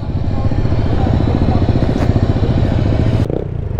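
Ducati Multistrada V4 motorcycle engine on a test ride, a loud, steady close-up rumble with a continuous throbbing pulse that ends with a sharp thump near the finish.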